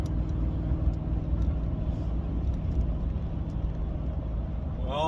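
A truck towing a trailer drives along the road, its engine hum and road rumble steady and loud throughout, with no voices.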